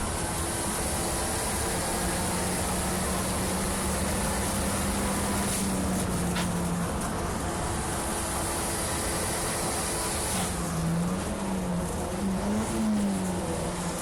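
A Nissan Micra Super Turbo race car laps Cadwell Park, its engine droning steadily from inside the cabin, pitch rising and falling through gear changes, with wind and road noise throughout.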